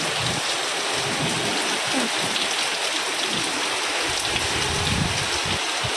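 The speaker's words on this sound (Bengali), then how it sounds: "এই দেখো বন্ধুরা, বাইরে মুষলধারে বৃষ্টি পড়ছে।" Heavy rain pours steadily outdoors in a dense, continuous hiss that holds at one loud level throughout, with no voices.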